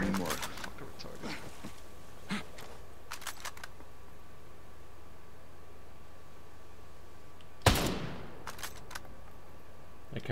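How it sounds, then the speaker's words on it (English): Enemy gunfire in the video game Ghost Recon Breakpoint, heard as a few sharp shots early on and one loud nearby report later, with quieter stretches in between. "Hostiles firing."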